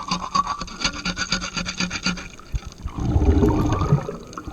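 Rhythmic rasping and rubbing of a tool scraping marine growth off a bronze boat propeller underwater, steady strokes for a couple of seconds, then a denser, louder wash of churning bubbly noise toward the end.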